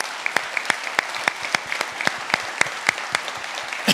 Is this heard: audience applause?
yes